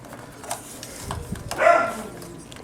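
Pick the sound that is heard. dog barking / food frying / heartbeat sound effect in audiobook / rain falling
dog barking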